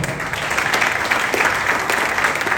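Sustained applause from a church congregation, a dense steady wash of clapping filling the whole stretch with no clear voices over it.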